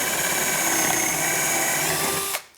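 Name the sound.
drilling with larger drill bit in drawer glide jig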